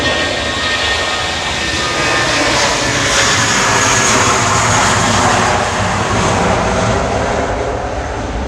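A British Airways shuttle jet, registration G-EUJ, rumbles loudly and continuously at Manchester Airport as it heads back to Heathrow, with the broad engine roar swelling slightly in the middle before easing.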